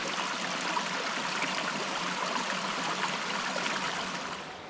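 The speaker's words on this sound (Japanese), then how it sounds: "この沢の音と" A mountain stream flows steadily through fern-covered hills in Japan's Okumusashi mountains, a continuous bright rush of water, close and even, fading slightly at the end.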